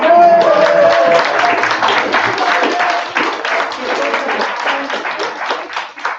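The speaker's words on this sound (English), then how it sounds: "I just want to give a round of applause" Applause and cheering from a live audience at a talk honoring a family member, dense clapping filling the room steadily from start to finish alongside a few crowd voices and a brief tonal shout near the beginning.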